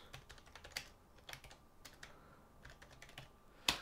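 Typing on a computer keyboard, with irregular clicks and taps at close range and a louder final keystroke, no voices.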